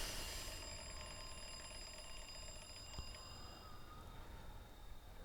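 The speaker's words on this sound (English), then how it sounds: "So her alarm's about to go off." An alarm clock in a film rings with a steady tonal jangle that starts loud and then carries on more quietly under a broadband hiss for several seconds, with no talking.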